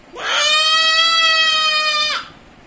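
A voice imitates a goat's bleat with one long, sustained, nasal tone that rises in, holds for about two seconds and cuts off, close and loud.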